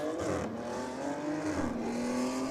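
A 610-horsepower drag car launches hard off the line at a drag race against a black BMW and a Volkswagen Golf, its loud engine roaring steadily and climbing in pitch for the whole stretch.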